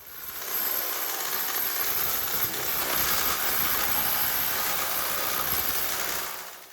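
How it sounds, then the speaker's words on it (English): A power chisel hammers cement render off a stone wall in a continuous, loud, close rattling buzz of rapid impacts lasting several seconds, with no talking. "I was pleasantly surprised by how much was coming off with the power chisel"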